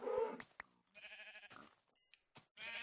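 Sheep in the Minecraft video game bleating in several separate calls with silent gaps between them, clear and close, with a few short clicks in between.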